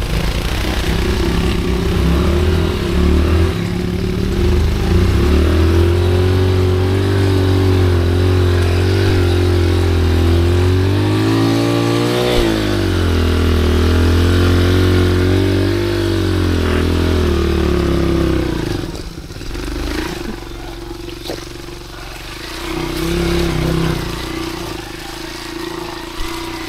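An off-road motorcycle engine runs loudly nearby, its pitch rising and falling with revs, then dropping to a lower idle before picking up again.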